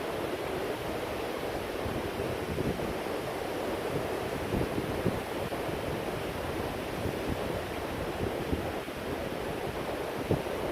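Ocean waves wash steadily at a coastal fishing spot, a continuous broadband surf roar with wind buffeting the microphone, loud and unbroken throughout with no speech.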